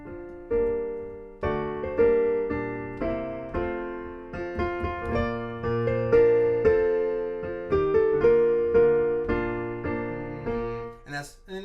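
Solo piano plays the opening section of the Star Spangled Banner as a slow melody over sustained chords, a steady sequence of struck notes with clear phrasing, close and moderately loud, without talking.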